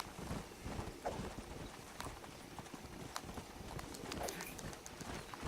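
Horse hooves clip-clop at a steady trotting rhythm in the video game Red Dead Redemption, faint and fairly close, with scattered ambient game sounds around them.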